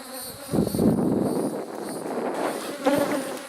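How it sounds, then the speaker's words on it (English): Defensive bees buzz around a hive on a cloudy, overcast day, a dense close droning swarm hum that swells and wavers, with individual bees passing near. "I don't like the attitude of these bees."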